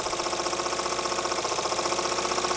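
A sixty-year-old Bowman-Bryant BM valveless marine steam engine runs on steam with a fast, even chuffing beat and a dense mechanical clatter, loud and close, with no pauses.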